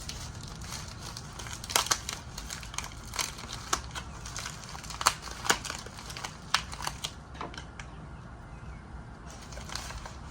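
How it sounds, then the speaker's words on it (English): Packaging is cut open with scissors, giving a continuous crinkling of plastic punctuated by sharp snips and crackles, close and fairly loud throughout, no talk. "Yeah, these scissors suck."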